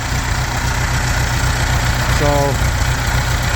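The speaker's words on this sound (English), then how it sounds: "sound of the motor going" A Bombardier muskeg tractor's motor runs steadily at idle, a loud, continuous low rumble throughout, with a brief voice speaking partway through.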